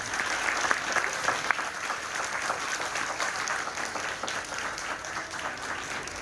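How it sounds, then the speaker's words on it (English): A school assembly audience claps steadily for several seconds, a broad wash of many hands with a few sharper individual claps standing out, moderately loud and continuous. "I request each one of you to please give them once again huge round of applause."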